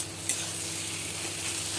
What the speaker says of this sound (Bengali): মশলাগুলোর সঙ্গে ডিমটাকে আমি ভালো করে ভেজে নেব।